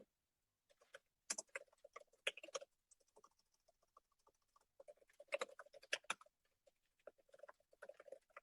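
Typing on a computer keyboard, with scattered bursts of quick, light key clicks and short pauses between, faint and close, with no talk.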